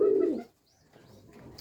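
A pigeon in a dovecote gives one close, low coo at the start, followed by quiet rustling and faint soft sounds from other birds.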